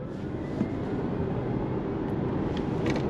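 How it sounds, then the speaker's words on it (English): A 2024 Genesis GV70 Electrified electric SUV accelerates at full throttle as a steady, broad rush of road and wind noise fills the cabin, loud and even throughout without any voices. "as soon as that light turns green, we can go on throttle, and you can see just how fast the acceleration is"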